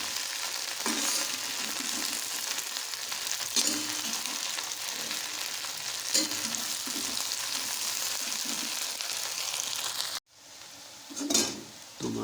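Okra curry being stirred with a spoon in a pan in a village-style kitchen, a close steady sizzle broken by periodic scraping strokes and a sharp clink of the spoon near the end.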